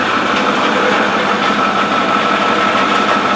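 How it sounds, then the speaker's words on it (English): A truck engine that is pushing oil and smoke out the exhaust runs steadily up close, with a constant whining, pump-like noise resembling a cavitating power steering pump under the loud engine drone. "it sounds like a power steering pump cavitating"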